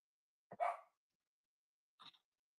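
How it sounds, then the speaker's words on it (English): A dog barks at a truck from behind a window indoors, giving two short, separate barks, the first louder and the second fainter, with silence around them. "So you can stop barking at it through my window."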